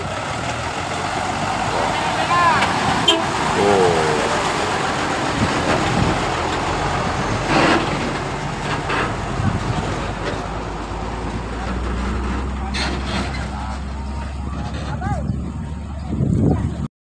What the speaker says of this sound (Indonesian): Datang lagi mobil alat berat tuh, untuk pengaspalan.